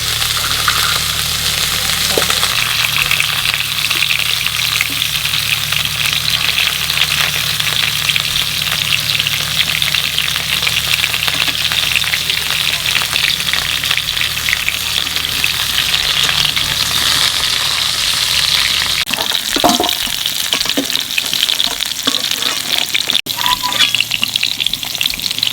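Moong dal frying in hot oil that has already been used to fry something, probably for khichuri: a steady, dense sizzle holds throughout, with occasional stirring scrapes and knocks near the end and no talk.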